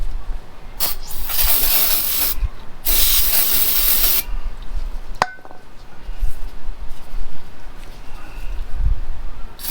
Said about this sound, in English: You can also spray here before you put on the shim.